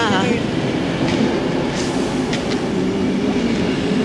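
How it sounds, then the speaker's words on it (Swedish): A train rolls past close by, a loud continuous rumble of wheels on rails with faint clicks, and people talk quietly underneath it. "Hej då tåget."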